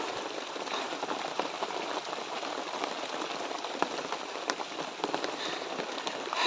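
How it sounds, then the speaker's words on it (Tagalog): Rain falls outdoors in a steady, dense patter, with scattered sharper drops tapping on nearby surfaces; the hiss is constant and moderately quiet throughout. "Medyo umuulan na ngayon."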